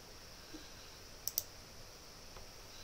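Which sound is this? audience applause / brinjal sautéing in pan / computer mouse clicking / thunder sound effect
computer mouse clicking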